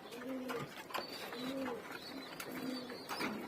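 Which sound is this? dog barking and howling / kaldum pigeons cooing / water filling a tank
kaldum pigeons cooing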